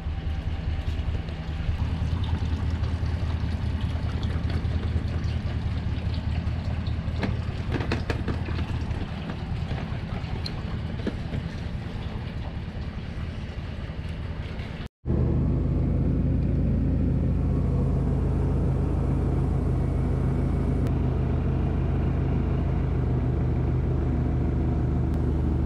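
Boat mud motor running steadily on a Florida waterway during a turkey hunting trip, a loud continuous engine drone with rumble that briefly cuts out and then resumes at a steadier, deeper pitch.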